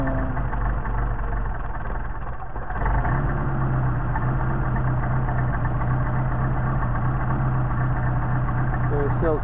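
A Mercedes 190SL engine with Solex carburetors idles on choke, a steady, slightly rough mid-pitched rumble that steps up a little partway through, while someone talks over it.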